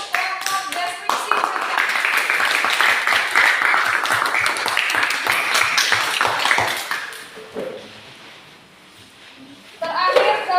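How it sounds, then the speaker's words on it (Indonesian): A school class in a practice exam lesson claps together for a student group, dense fast hand clapping from many children lasting several seconds, then fading into a quiet pause before a voice resumes. "Berikan tepuk tangan untuk kelompok deskripsi."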